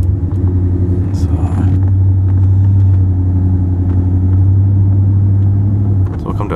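A pickup truck cruises along a road, its engine and tyres making a loud, steady low rumble heard from inside the cab, with a voice speaking over it.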